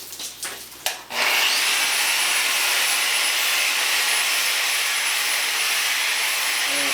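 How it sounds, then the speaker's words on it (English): A random orbit wet polisher running at slow speed on a stone bowl from Schroon Lake, kept wet with diamond pads, giving a steady loud whirring hiss that starts after a second of quieter handling noise and holds continuously. "Slow speed on the random orbit, just wet polisher helps to make it so that you can roll like this to create a rounded shape."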